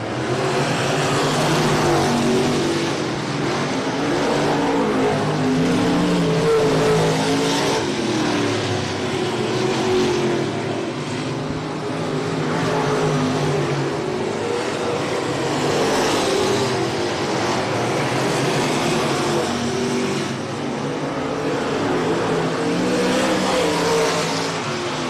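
Race cars lapping at I-37 Speedway during a regular race program, with a loud, continuous engine roar that swells and fades in repeated waves as cars pass close by, without any talk.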